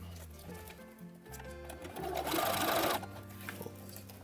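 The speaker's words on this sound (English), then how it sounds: "Next, we zigzag the Velcro on with just a standard zigzag stitch." Sewing machine running a standard zigzag stitch to attach Velcro onto a jumpsuit sleeve cuff, a steady close mechanical whir that swells louder midway then settles back.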